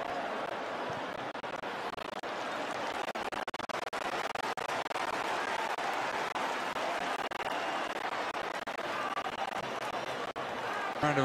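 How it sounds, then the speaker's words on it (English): Stadium crowd at an Ivory Coast versus Zambia Africa Cup of Nations qualifier football match applauding, a dense, steady wash of clapping and crowd noise that holds at an even level throughout. "Round of applause in appreciation of the effort"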